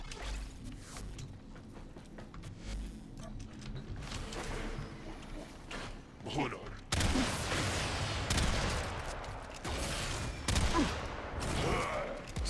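Shotgun blasts in the Warframe video game against an enemy unit, a rapid series of loud, punchy reports with heavy bursts and impact effects in a busy, noisy combat mix.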